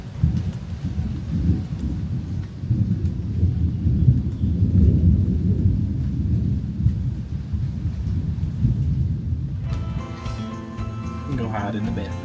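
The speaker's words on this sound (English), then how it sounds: "That's a beautiful thunderstorm." Thunderstorm closing in over a mountain area: a loud, continuous low rumble rolls on for about ten seconds, with wind and rain noise mixed in, then a brief burst of brighter noise near the end as people talk.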